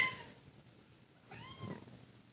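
A cat meows twice indoors, a short faint call at the start and a clearer, rising-and-falling meow a little later, with quiet room noise between and no talking.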